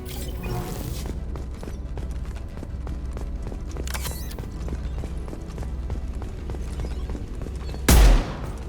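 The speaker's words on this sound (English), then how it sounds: "the heavy pistol is powerful" Heavy pistol shots in Mass Effect 2 ring out as a few separate, punchy reports spaced seconds apart over steady game ambience, with the loudest blast near the end.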